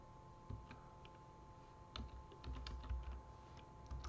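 Keys tapped on a computer keyboard while entering CSS flex properties, a short scatter of soft clicks in small bursts over a steady low background hum, fairly quiet and close.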